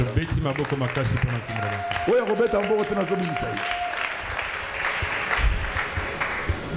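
A church congregation breaks into loud applause during a sermon, with a voice heard before the clapping swells into broad, sustained noise.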